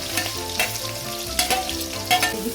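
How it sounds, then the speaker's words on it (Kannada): Chicken liver and chopped onion fry in hot oil, giving a steady close sizzle with brief louder bursts of stirring scattered throughout. "ಆಯಿಲಲ್ಲಿ ಫ್ರೈ ಆದಮೇಲೆ ಅದ್ರ ಜೊತೆಗೆ ಕಟ್ ಮಾಡಿರೋಂಥ ಈರುಳ್ಳಿ ಸೇರಿಸ್ತಾ ಇದ್ದೀನಿ"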